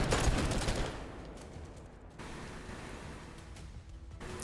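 Sustained volleys of cover fire in the game Girls Frontline 2, a dense noisy burst of gunfire loudest at the start, easing into a steadier rattle with a sharp final crack near the end.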